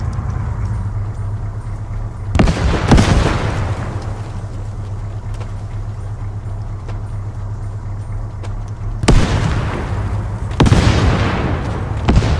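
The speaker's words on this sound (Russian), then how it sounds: "Граната." Grenade explosions and gunfire in the military shooter Arma 3 land as four heavy booms in two pairs, each trailing off into rumble over a steady low engine-like drone.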